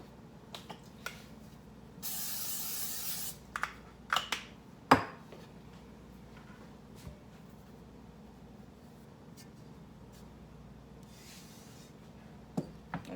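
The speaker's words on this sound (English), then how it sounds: "We're going to spray this iron skillet." A short burst of cooking spray hisses onto an iron skillet for about a second, followed by scattered light clicks and knocks in a quiet room.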